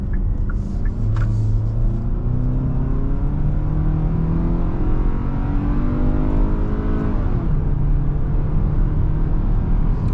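A 2022 Hyundai Tucson XRT with a naturally aspirated 2.5-litre engine accelerates onto a highway in sport mode, engine note rising through gears with audible shift drops, steady loud cabin rumble, no talk.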